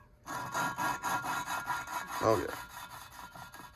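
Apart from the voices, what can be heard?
lapping engine valve with compound, rubbing and rotating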